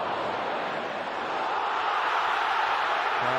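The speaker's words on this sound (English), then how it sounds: "Crowd disappointed that Tottenham reacted quicker to the loose ball." Large football stadium crowd at a Premier League match between Manchester United and Tottenham, a sustained broad roar that swells slightly into a groaning, disappointed murmur with no commentary over it.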